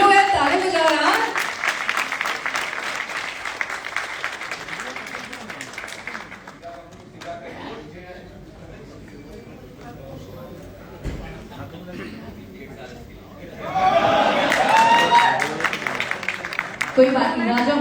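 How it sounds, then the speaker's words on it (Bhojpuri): Crowd clapping at a live birthday show for a Bhojpuri singer, bursts at the start and again near the end, with a quieter stretch of murmuring and talk between. "सभी लोग यार ताली बजा रहे हैं"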